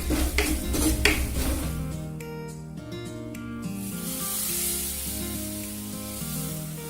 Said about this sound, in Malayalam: പുളി വെള്ളവും ഉപ്പ് ഒഴിച്ചിട്ടേക്കുന്നത് ഒഴിച്ചു കൊടുക്കാം